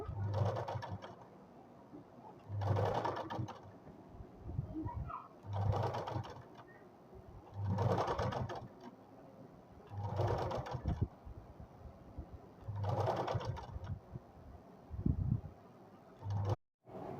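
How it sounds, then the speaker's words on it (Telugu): A sewing machine stitches a gathered skirt in short, evenly spaced bursts of rapid clattering, about six runs separated by quieter pauses, with faint background sounds between them. "ఇలా చిన్నగా కుట్టు పెట్టుకుంటూ కుట్టాలన్నమాట"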